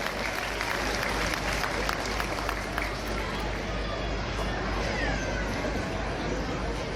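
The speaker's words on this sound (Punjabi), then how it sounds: "ਜ਼ੋਰਦਾਰ ਤਾੜੀਆਂ ਪਿੰਡੂ ਜੌਲ ਸਾਹਿਬ ਨੇ" An audience claps loudly and continuously at an outdoor winter Lohri celebration held for daughters in a Punjab village, with dense, even applause filling the scene.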